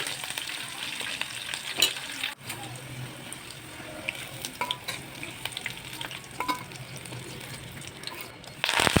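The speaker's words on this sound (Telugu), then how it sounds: "దీంట్లోనే మూడు పచ్చిమిరపకాయలు పీల్ చేసి దాంట్లో వేసుకున్నాను ఇవి కొంచెం దోరగా వేయించాక పక్కకు తీసేసుకోవాలి" Three peeled green chillies fry in oil as a garnish for chicken 65. A soft, continuous sizzle runs throughout, broken by occasional scraping clicks of stirring.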